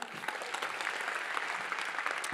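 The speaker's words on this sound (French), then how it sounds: "Merci Mathias, on peut l'applaudir" Applause from an audience at a French sports awards ceremony, a dense, even patter of many clapping hands sustained throughout the short stretch.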